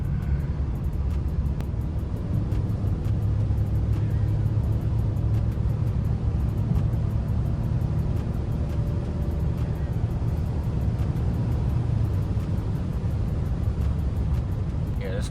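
A BMW E39 530i sedan cruises along after a car wash, its engine and road noise forming a steady, loud low rumble that continues without a break from inside the cabin.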